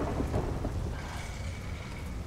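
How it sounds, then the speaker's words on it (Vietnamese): Rain in the video game GTA 5 roleplay falls as a quiet, steady hiss with a low rumbling background, faint and continuous throughout. "Trời đang mưa này."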